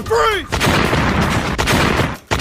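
Rapid bursts of gunfire from a tank-headed Siren Head creature in a video game, loud and sustained across the moment, opening with a brief whistling tone before the dense shooting.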